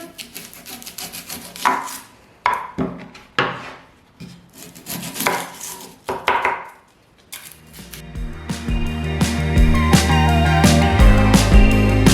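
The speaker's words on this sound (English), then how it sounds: "So now we're going to cut up the onion." Knife chopping through a half onion on a wooden board: a run of separate crisp chops, close and fairly loud, then music takes over in the second half.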